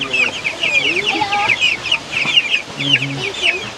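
Chickens cluck and chatter in a farmyard, several birds close by with busy, overlapping calls and brief squawks throughout, with a little murmured speech in the background.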